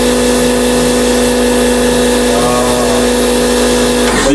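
A Kärcher lithium-ion portable pressure washer sprays steadily and loudly, its constant motor whine and hiss held level throughout before cutting off abruptly at the very end.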